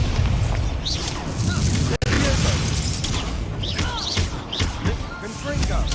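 Expulso blasting spell cast in the video game Hogwarts Legacy, a dense, loud burst of booming, crackling combat effects that continues throughout, with sharp impacts and a brief gap, amid busy game noise.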